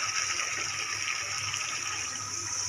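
Hot water is poured into a chicken and potato curry as it cooks, making a steady, close rushing gush that holds at an even level throughout. No one talks.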